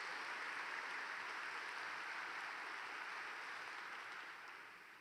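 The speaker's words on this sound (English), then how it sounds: "Can we give Mayor Susie Rasmus and folks around here one more round of applause" Sustained audience applause at the SOAR Summit, a dense wash of clapping from a large crowd that holds steady and then begins to taper off toward the end.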